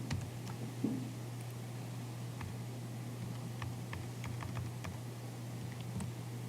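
Keys tapped into a calculator while entering a physics equation: a quiet series of irregular clicks over a low steady hum, with no talking.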